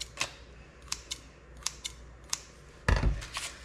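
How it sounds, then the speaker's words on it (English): Scissors snip slits into a risen sourdough loaf in a homestead kitchen, a string of sharp, close clicks spaced through the moment, then a louder clattering thud near the end. "using scissors or a fancy knife, I just put a couple of slits in mine"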